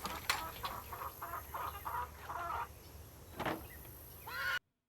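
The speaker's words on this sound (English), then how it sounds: "I swear it sounds like the chickens are getting murdered." Agitated chickens squawk and cluck in a ranch setting in the video game Nancy Drew: The Secret of Shadow Ranch, a run of loud, harsh bursts in close succession over a constant background drone, ending abruptly.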